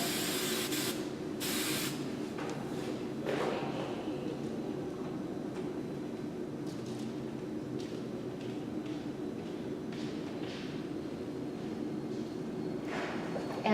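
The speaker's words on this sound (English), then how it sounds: "And we'll give it a nice spray." Hairspray hisses in a couple of short bursts onto a bridal updo made with extensions, close and brief, followed by a soft ongoing room hum and faint handling noises.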